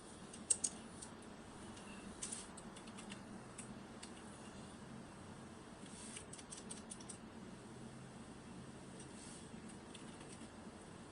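Keyboard keys are tapped to shift gears while driving a manual car in BeamNG, giving quiet scattered clicks over a faint steady hiss, with a few brighter presses near the start.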